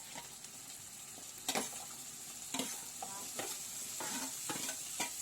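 Mushrooms stirred into a masala for a restaurant-style mushroom curry, with steady close sizzling and a run of sharp scraping stirs spaced about a second apart.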